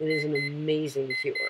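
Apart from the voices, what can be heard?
alarm clock ringing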